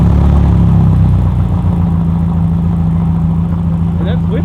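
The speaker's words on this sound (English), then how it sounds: "The fuel pump is really loud." Ferrari F40 fuel pump running loudly, a steady close whir and hum blended with the low idle of the engine, constant and unbroken throughout.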